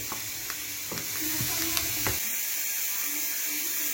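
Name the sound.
onions sizzling as they cook down in a pan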